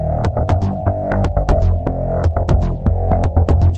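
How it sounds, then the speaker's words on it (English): Spectrasonics Omnisphere synth bass patch, a loud deep pulsing bass line with sharp rhythmic clicks on top, playing steadily and close with no talking. "Let me show you some of the synth bass stuff."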